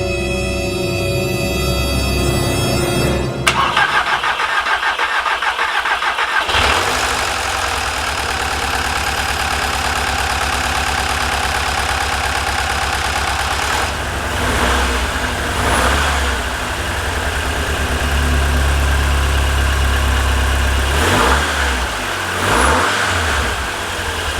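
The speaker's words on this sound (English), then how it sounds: "first attempt to start the car" An Audi car engine cranks and catches, then settles into a steady loud idle with a few revs, running continuously close by.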